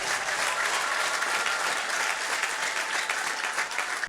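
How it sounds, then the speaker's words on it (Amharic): A church congregation applauds, dense and sustained clapping from many people that fills the room evenly from start to finish and breaks off abruptly at the end. "ጭብጨባው ለኢየሱስ።"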